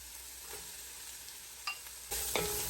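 Chopped onions, garlic, shallot, carrots and celery softening in a pan for a coconut lentil soup base, a soft steady sizzle with a few spoon stirs and scrapes, close and quiet, no talking.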